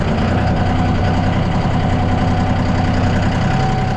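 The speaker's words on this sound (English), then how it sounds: "we got the backhoe on" A backhoe engine idles close by with a loud, steady low rumble and a fast, even knocking pulse, no other sounds over it.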